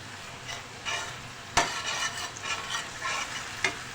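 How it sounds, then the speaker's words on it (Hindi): Garlic ginger paste fries in hot oil with onions in a pan, a soft steady sizzle broken by scraping stirs and a sharp clink of the spoon, faint and without voices. "लहसुन अदरक का पेस्ट डाल के अब हम फ्राई करेंगे।"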